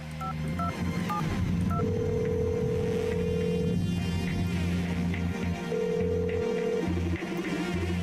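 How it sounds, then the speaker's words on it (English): Telephone keypad tones from the video game The Red Strings Club beep in a quick series of short dial tones, then give way to longer sustained electronic tones under a synth backdrop. "Maybe I phone her as Naima"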